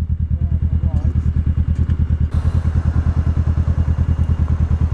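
A Zontes Mantis 125 motorcycle engine idles steadily and close by, its even, rapid thumping pulse running throughout while people talk over it.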